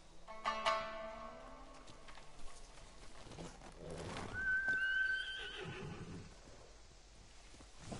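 A horse in a video game lets out a loud, shrill neigh at the start, followed by quieter snorting and hoof shuffling under a soft ambient background.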